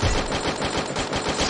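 Rapid automatic gunfire from the Free Fire video game, a loud, dense burst of repeated shots lasting about a second and a half with no talk over it.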